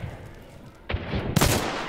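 Two loud gunshots ring out in Hunt: Showdown, spaced about half a second apart. Each has a sharp crack followed by a rolling echo over a low, steady background.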